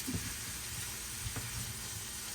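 Pork chops fry in seasoned oil in a pan, giving a steady, dense sizzle with a few faint stirring knocks and no voices.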